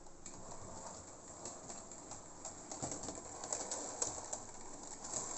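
A small model railway Kleinbahn locomotive runs on its track with a faint, steady mechanical whir and light clicking, quiet and alone.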